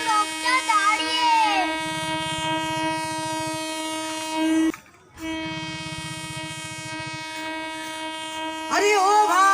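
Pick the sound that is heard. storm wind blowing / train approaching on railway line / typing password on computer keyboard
train approaching on railway line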